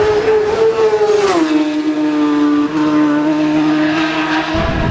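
A racing motorcycle screams past at the Isle of Man TT road races, its loud, high engine note sweeping down in pitch as it flies by close to the roadside, with no talk.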